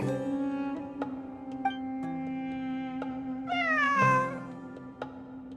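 A cat meows in a video game, giving several drawn-out meows with a rising, wavering cry near the end, clear and close over a steady low ambient drone, with no voices.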